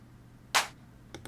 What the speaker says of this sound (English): There's a second clap.